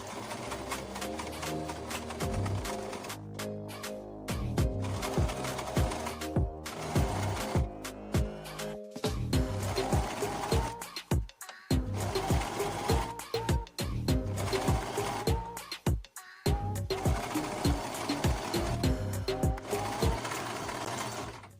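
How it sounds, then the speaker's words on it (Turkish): A sewing machine stitching bias binding, running in steady rapid bursts of needle clatter with brief pauses between runs, close and loud throughout, with no talking over it. "Ve iğnelediğim yerden tekrar dikeceğim."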